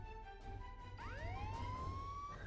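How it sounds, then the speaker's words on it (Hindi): A police siren played from an old phone wails alone, its pitch sweeping up and holding in a long electronic tone over a low steady hum. "अपने एक पुराने फ़ोन से पुलिस के सायरन की आवाज़ निकाली"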